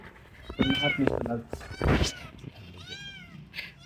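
A cat stuck up on a shelf meows several times, loud and drawn-out, with people talking and exclaiming around it.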